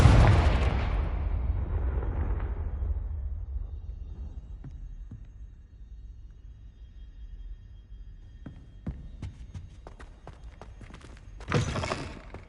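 Confringo blasting spell going off in Hogwarts Legacy: a loud, close explosive burst that rumbles and fades away over several seconds, followed by quieter thuds and a short sharp burst near the end.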